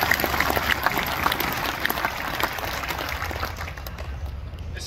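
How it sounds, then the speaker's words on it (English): Crowd applause at a union rally for the ETU, a broad steady wash of clapping and crowd noise, fairly distant and even throughout. "Let's give them a round of applause."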